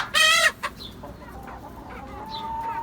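Chickens cluck and squawk close by as they go into a coop, one loud burst of calls at the start followed by fainter scattered clucks.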